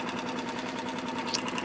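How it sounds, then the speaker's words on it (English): A Mercury 3.5hp outboard motor idles with an even, fast, buzzy mechanical pulse heard fairly close and moderately loud, alone without any talking. "And it's idling beautifully."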